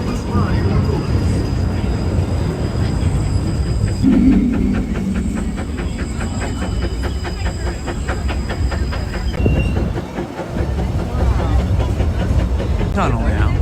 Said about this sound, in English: Our next stop is Toontown Depot, our official train station for Mickey's Toon Town